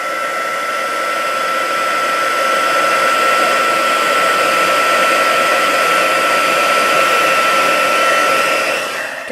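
Loud, steady whirring blast of an electric heat tool melting embossing powder on a handmade card, running continuously up close for about nine seconds before cutting off.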